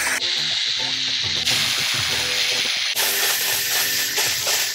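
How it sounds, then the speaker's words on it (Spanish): A steam cleaner hisses steadily while steaming a bed frame to kill bed bugs, a loud continuous sizzling jet with brief shifts in pressure and no talk. "echa vapor lentamente por toda la cama"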